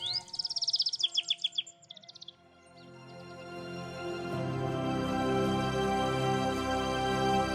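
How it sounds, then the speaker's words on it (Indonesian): Birds sing from twigs and branches, a bright run of rapid chirps and trills for about two seconds, then give way to swelling sustained music. "mendengar nyanyian burung di ranting dan dahan"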